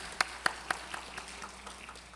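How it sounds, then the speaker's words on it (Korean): A few sharp claps from a church congregation at a Sunday afternoon worship service, three distinct close claps followed by fainter scattered ones fading out, brief and sparse. "우리 박수 부탁드리겠습니다"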